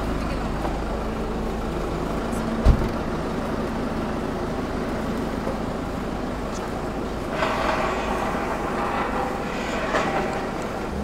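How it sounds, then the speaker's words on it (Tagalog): A TMR mixer truck rumbles through a dairy barn with a loud, steady engine drone and one brief knock, and a rising mechanical whir comes in near the end. "Dadaan na TMR mixer."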